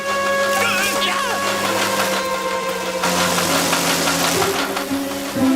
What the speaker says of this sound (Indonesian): Di mana mesin pemotong rumputku berada?